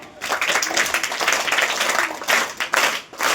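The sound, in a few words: audience applause at school event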